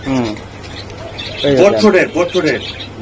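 Damascene racer pigeons coo briefly at the start, then someone talks over them and their soft calls fade under his voice.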